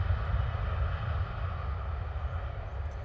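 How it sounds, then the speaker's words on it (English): An airliner at London Stansted Airport roars through its takeoff roll, a loud, steady broadband rumble with deep low-end power and no talk. "Going long as well on the takeoff roll."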